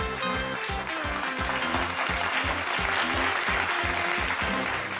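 A studio audience applauds on a Bangla family game show, loud continuous clapping mixed with rhythmic, beat-driven music throughout.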